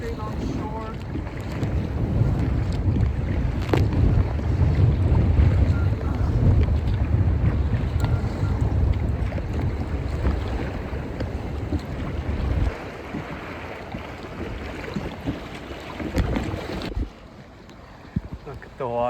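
Choppy lake water in Southern Ontario slaps and churns steadily around a kayak, with heavy wind buffeting the microphone throughout; the roar eases near the end.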